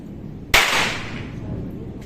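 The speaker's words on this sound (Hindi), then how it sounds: "ये पटाखे छुटाने में लगा है, शुरू उसका काम।" A single sharp firecracker bang goes off nearby, followed by a fizzing, crackling tail that slowly fades.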